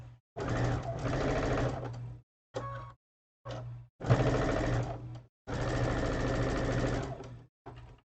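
A sewing machine chain piecing quilt blocks, its stitching in several steady runs of a few seconds each with short pauses between, loud and close with a low steady hum.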